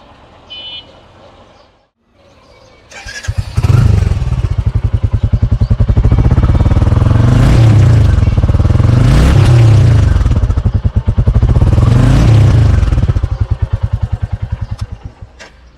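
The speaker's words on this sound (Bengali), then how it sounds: "রয়্যাল এনফিল্ডের যে আকর্ষণটা, সেই আকর্ষণের মূল কেন্দ্রবিন্দু কিন্তু এর ইঞ্জিনের সাউন্ড, এক্সস্ট নোট।" A Royal Enfield Classic 350 motorcycle fires up after a brief quiet moment, then settles into a loud, close, thumping single-cylinder exhaust beat that swells through several throttle revs before easing back.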